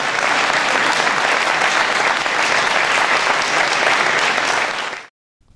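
A large crowd at a National Day of Romania ceremony in Alba Iulia applauds, loud dense clapping sustained for about five seconds before cutting off abruptly.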